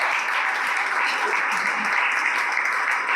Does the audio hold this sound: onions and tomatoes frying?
no